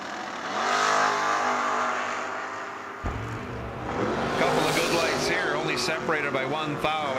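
Drag race door cars, including a Buick, launching at a Cedar Falls 350 event, with a loud engine roar that rises and fades, then a second burst of revving and shifting engines, and an announcer talking over it.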